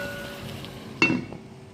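A metal lid is set onto a cooking pot of Kuttanad-style duck curry with a single sharp clink and a brief rattle, heard close over quiet kitchen background.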